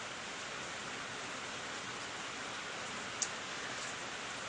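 Steady rain falling at home, an even wash of hiss with no breaks and one tiny tick partway through, moderate in level and free of speech.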